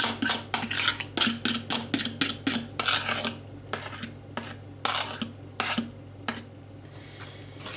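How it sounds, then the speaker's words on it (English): Banana bread batter with banana and vanilla is mixed by hand in a bowl: a fast run of rhythmic scraping, clinking strokes that slows into fewer, spaced-out stirs, close and clear with no talking. "now you just mix it all together"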